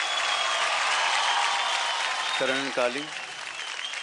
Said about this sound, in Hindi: वेल, तो जोरदार तालियां हो जाए राजीव के रॉकर्स के डबल्स करण और कालिंग के लिए।